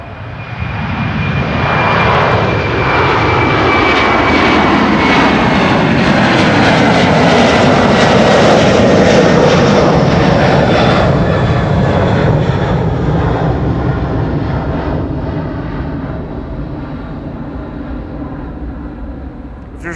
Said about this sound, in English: there's one departure that is usually loud. It is the A330s.